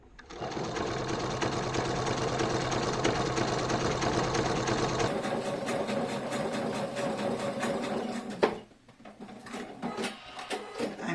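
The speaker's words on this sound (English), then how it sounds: "Then we're going to top stitch at 1/8 inch from the" A sewing machine top stitches a shoulder bag with a triple stitch, a close, steady mechanical hum that runs for about eight seconds, changes pitch midway, then stops with a clack and some handling sounds.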